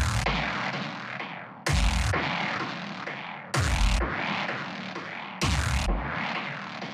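A delay effect modulated by the UVI Shade plugin moves through a music mix, its bright sound returning in four evenly spaced swells, each starting with a sharp loud hit and fading, with no talking.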